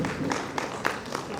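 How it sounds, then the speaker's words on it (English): Scattered applause from a conference audience, a patter of claps that stays moderate and steady for a brief moment. "A big round of applause,"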